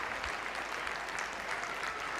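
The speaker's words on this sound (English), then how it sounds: "That's a warm and richly deserved round of applause from those that have attended" Stadium crowd applauding at a women's football match, Manchester United against Everton in the Barclays WSL, as a goal-scoring player is substituted off, a steady wash of distant clapping throughout.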